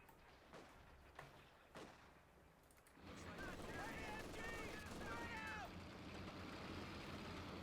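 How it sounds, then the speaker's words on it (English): Machine-gun fire in a real-time strategy video game, heard as several sharp, scattered shots against a busy battle din, followed by a denser stretch of fighting mixed with vehicle noise and voices. "This MG just continues to be annoying."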